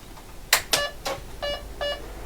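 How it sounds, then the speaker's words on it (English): An HP9845B computer powering up with a test ROM installed, giving a couple of sharp clicks followed by two short, clear electronic beeps in close succession, loud against a quiet room hum. "getting 2 beeps"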